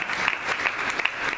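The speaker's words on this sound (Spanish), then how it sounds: "La iglesia glorifica con esas lindas palmas." A church congregation claps together during a prayer vigil, brisk, dense clapping with a few sharper individual claps standing out, steady and close throughout.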